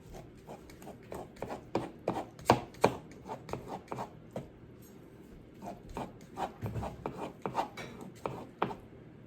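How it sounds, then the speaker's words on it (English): Cooked BBQ pulled chicken being shredded with utensils in a home kitchen, giving uneven scraping and tapping strokes in irregular bursts, close and moderately loud, with no talk. "you can finely shred in the other direction and you get a much finer shred"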